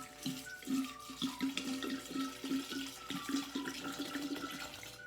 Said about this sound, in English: Pour that entire bottle in.